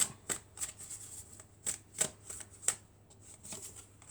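Tarot cards are shuffled in quick, crisp bursts, a series of close riffling snaps spaced irregularly, with quiet pauses between them and no talking.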